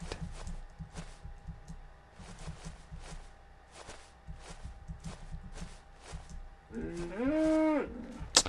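Minecraft cows moo repeatedly at moderate volume over rhythmic clicking and tapping, with a longer, louder moo near the end.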